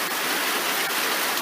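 Heavy, steady rain falls outdoors onto a lawn that is already soaked with water, a loud and continuous hiss with no voices.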